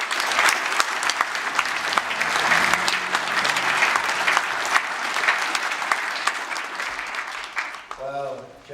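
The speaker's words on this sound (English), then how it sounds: "I'd like you to give another warm round of applause" Warm, sustained applause from an awards ceremony audience welcoming a speaker, dense clapping close and steady for several seconds before fading as a voice begins speaking at the end.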